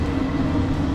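Heard from inside a moving passenger train carrying a bicycle: a steady, close low rumble and hum from the wheels and carriage that runs throughout, with no voices.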